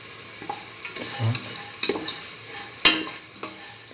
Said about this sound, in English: Now put in the roasted vermicelli.